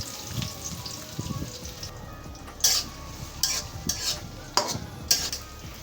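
Chopped onions, fenugreek seeds and whole spices fry in oil for a beef tripe curry, a steady low sizzle with repeated scraping stirs and occasional sharp clinks of the spoon against the pot.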